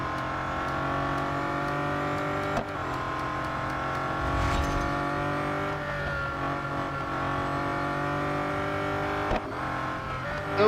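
Bugatti Centodieci engine racing in the Real Racing 3 mobile game, a steady, loud engine drone held throughout with a couple of brief sharp bumps and a slight swell near the middle.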